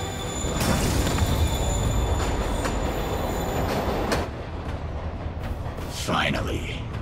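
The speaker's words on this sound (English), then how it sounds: "Train moving." A train rolls and rumbles steadily in Marvel's Spider-Man, with squealing wheels and metallic clatter over a broad, loud roar that eases near the end.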